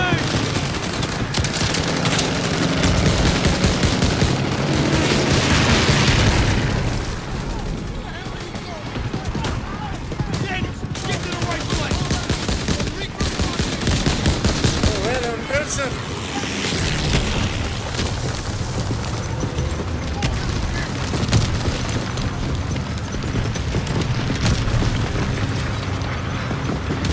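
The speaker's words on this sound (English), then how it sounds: "Grenade!" A Call of Duty: WWII battle with constant loud gunfire, machine-gun bursts and heavy booms running nonstop, including a grenade blast, while voices shout over the din.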